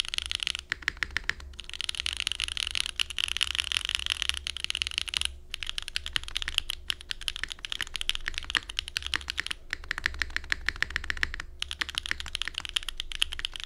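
A Mode Sonnet mechanical keyboard on a Lattice Mount, with no copper weight, is typed on steadily, giving a close, quiet stream of crisp clacks in quick bursts with brief pauses between them.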